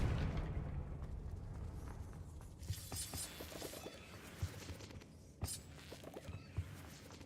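A Confringo spell explosion in the video game Hogwarts Legacy, heard as a sharp crackling blast followed by scattered pops and bursts over a steady low rumble of game ambience.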